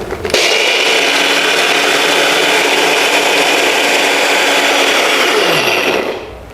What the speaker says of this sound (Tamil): இப்போ இது கொரகொரன்னு அரைச்சிக்கலாம்.